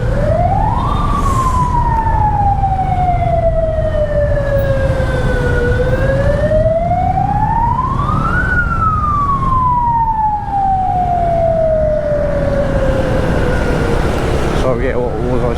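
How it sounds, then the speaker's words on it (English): An ambulance siren wails loudly and close during a night ride through Saigon, its tone rising and falling in long sweeps over steady traffic rumble, then cutting off near the end. "That an ambulance."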